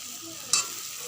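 Potatoes fry with spice masala in a pan, a short steady sizzle with one brief louder scrape of stirring midway.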